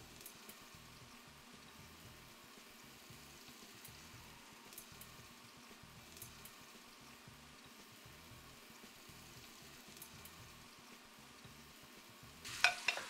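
Kofta with tahini frying together in a single pan, a faint, steady low sizzle and bubbling that continues without a break, ending in a brief louder scrape near the close.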